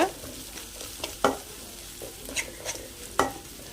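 Peanut paste being stirred into a garlic rice mixture in a pan over a low flame, with a soft sizzle throughout and several sharp scraping strokes of the spoon at irregular intervals, close and alone.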